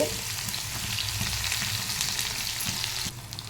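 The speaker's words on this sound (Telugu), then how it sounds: "ఇప్పుడు మనం కరివేపాకున్న ఉల్లిపాయలు యాడ్ చేసుకోవాలి" Onions and curry leaves frying in oil for a dal, a continuous close sizzle with light crackle throughout, dropping slightly near the end, no talking.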